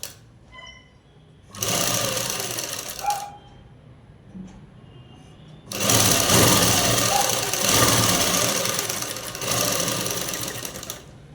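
A sewing machine stitches folded cloth along a shirt collar in two loud, steady bursts of running, separated by quieter pauses with faint handling noise.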